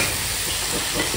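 Vegetable pulao being stirred and frying in a hot pan, a steady close sizzle with a scrape of the spoon near the end.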